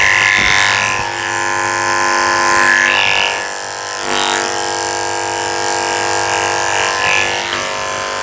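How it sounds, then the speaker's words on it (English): Electric dog clippers fitted with a 10 blade buzzing as they shave the ear tips of a Yorkie, a steady motor hum that dips and changes pitch as the blade meets the fur, with no talking. "Use a 10 blade on the tips of her ears to shave the tips."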